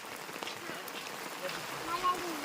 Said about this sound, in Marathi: आता पाऊस पण आलाय आहे आणि मगाचपासून रिमझिम पाऊस आहेच पण आता जरा जास्त आलाय